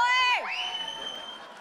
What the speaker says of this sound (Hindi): ताली बजा के थोड़ा सा प्रोत्साहन तो दे सकते हैं ना